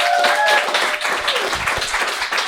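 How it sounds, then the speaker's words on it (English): A crowd applauds steadily throughout, dense clapping filling the room, with a brief whistle near the start. "Let's please give another big warm round of applause for Kate."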